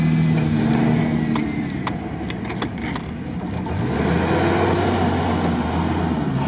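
A Suzuki Samurai engine strains and revs while climbing a sandy hill, a rough mid-pitched drone that dips and then rises again, close and sustained with some clattering.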